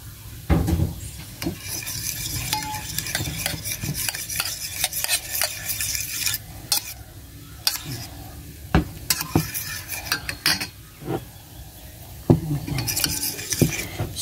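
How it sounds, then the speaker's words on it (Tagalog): Six eggs beaten in a bowl for an omelette with mushroom, a busy run of close, irregular scraping and tapping strokes against the bowl, pausing briefly now and then, with no talking. "So, I beat 6 egg."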